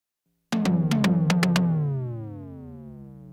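Seven quick synth tom hits from Reason's Kong drum designer roll through in an uneven fill, then their pitched tone rings on and slowly decays.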